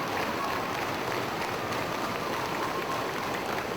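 A wrestling crowd at a live supercard event roars and claps in a dense, continuous wash of cheering that fills the whole moment without a break.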